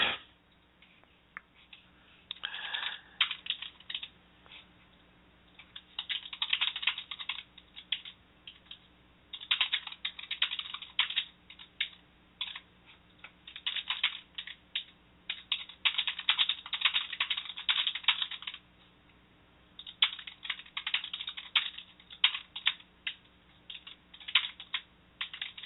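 Steady typing on a computer keyboard, bursts of quick clicking keystrokes with short pauses between them, close and fairly quiet with no talk over it.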